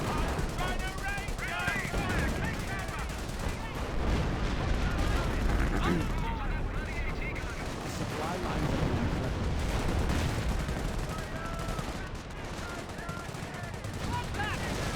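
Artillery barrages and rapid gunfire from a Company of Heroes battle, a continuous din of shots, bursts and explosions running throughout, with someone commentating over the combat.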